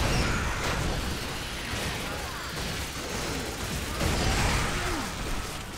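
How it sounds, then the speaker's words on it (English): Explosions and gunfire in Gears of War: Judgment combat, a dense barrage of bursts, pops and rumbling blasts layered continuously at close range. "So many explosions."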